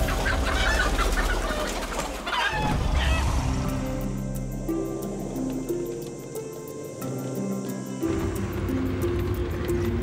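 Chickens clucking in a pen at a wildlife rescue setting, a busy layered stream of calls at moderate distance, with a steady background drone underneath and no one speaking.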